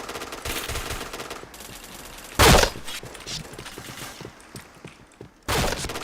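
Gunfire crackles in a shooter video game, with a couple of loud sustained bursts standing out against quieter game ambience and scattered smaller shots.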